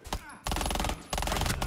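Short, rapid bursts of SMG fire in Rainbow Six Siege, two sustained volleys with a brief pause between, loud and close, with a little talk underneath.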